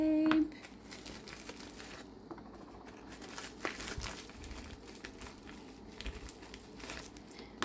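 A package holding three rolls of washi tape ordered from Aliexpress is opened with close, crinkling plastic and paper rustles and tearing. A brief tone sounds at the start and a voice speaks faintly in the background.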